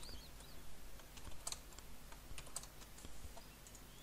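Close, quiet typing on a computer keyboard as C# code is entered, a steady patter of soft key clicks with a few sharper taps, no voices.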